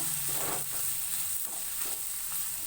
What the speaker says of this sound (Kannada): ಹಸಿರು ಮೆಣಸಿಕಾಯಿ ಹಾಕೋತಾ ಇದ್ದೀನಿ ಮತ್ತು ಈರುಳ್ಳಿ ಕೂಡ ಸೇರಿಸ್ಕೊತಾ ಇದ್ದೀನಿ ಸರ್ ಅದು ಈಗ ಒಗ್ಗರಣೆಯಲ್ಲಿ ಚೆನ್ನಾಗಿ ಫ್ರೈ ಮಾಡ್ಕೋಬೇಕು